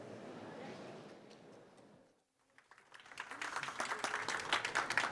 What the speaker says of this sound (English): You can stand down on the applause.